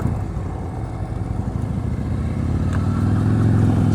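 A motorcycle creeps along at slow speed with no brakes during an advanced slow-speed riding practice, its engine putting steadily and growing slightly louder and nearer.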